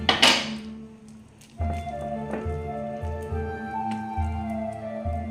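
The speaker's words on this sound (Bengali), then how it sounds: "খুব ভালো করে মিশিয়ে নেবো।" Makhana modak mixture stirred with milk powder in a pan, giving soft repeated scraping and squishing strokes with light clinks of the spoon against the pan, close and steady without talk.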